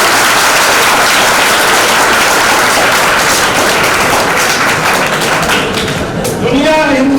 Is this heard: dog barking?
no